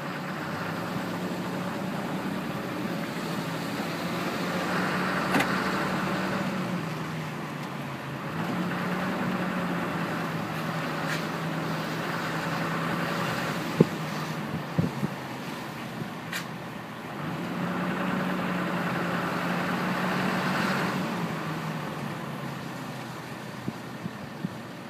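A 2010 Dodge Ram 3500 Laramie pickup drives a short loop around a dealership lot in Grande Prairie, Alberta, its engine giving a steady low hum that swells and eases in waves, with a few small knocks and no talk.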